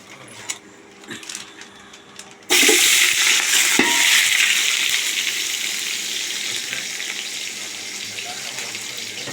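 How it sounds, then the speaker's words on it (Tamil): Onions dropped into hot oil in a pan for chicken biryani, a sudden loud hiss bursting in after a quiet start and settling into a steady close sizzle with a few stirring knocks. "இப்போ நல்லா காஞ்சிருச்சு நம்ம வெங்காயம் போட்டுக்கலாம்"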